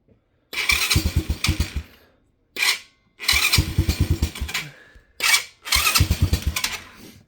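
A Venom Madix 125 motorcycle with the choke on and a troublesome carburetor sputters through five uneven bursts of close, throaty revving, separated by short gaps of near silence.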